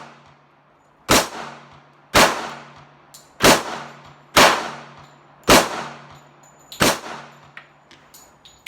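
Pistol shots from a Sig Sauer P238 and an Auto Ordnance 1911 A1 at a shooting range: six loud, sharp cracks spaced roughly a second apart, each with a short ringing decay, close by and with no talking.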